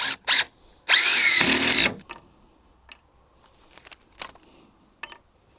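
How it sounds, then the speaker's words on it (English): A handheld power drill pre-drills timber for decking at an old farm, with two quick blips followed by a steady whine of about a second, then light clicks and handling taps close by. "So that one definitely I'm just going to go and pre-drill."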